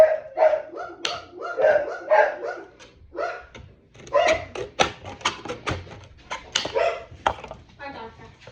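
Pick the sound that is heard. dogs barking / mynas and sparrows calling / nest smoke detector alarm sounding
dogs barking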